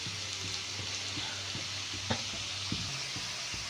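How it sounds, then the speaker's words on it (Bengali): Carrots fry in oil in a pan, a soft continuous sizzle with a few scattered light taps and scrapes of stirring, fairly quiet and close, with no voices. "গাজরটাকে প্রথমে একটুখানি ভেজে নিই।"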